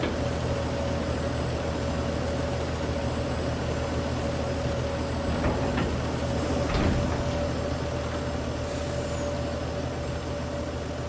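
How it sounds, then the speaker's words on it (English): Trailer unloading in Farming Simulator 22 with modded sounds: a continuous mechanical hum with a steady tone, a truck engine idling underneath and a couple of brief clunks and scrapes partway through. "Basically, these are the trailer unloading sounds that he's, you know, implemented here"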